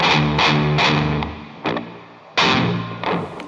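Musical passage run through a stereo reverb effect unit, sustained tones with repeated swelling attacks that ring out and decay into long tails between hits.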